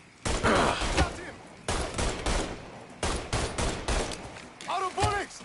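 Gunfire rattles in Mafia III: repeated loud bursts of rapid shots from close by, with voices shouting over the shooting.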